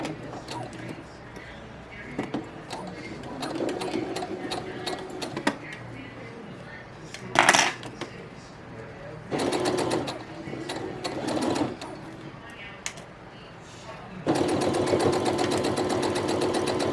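A domestic sewing machine stitches elastic onto stretchy bikini fabric in several rapid whirring bursts separated by pauses, the final run loud and steady.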